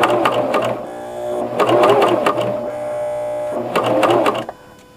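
A sewing machine stitches back over a seam line on a T-shirt, whirring close in several short bursts with a steady mechanical hum, then stopping just before the end.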